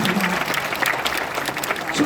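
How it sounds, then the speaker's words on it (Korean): Congregation clapping at the close of a Sunday church service, a steady patter of applause with a voice speaking over it. "박수하겠습니다"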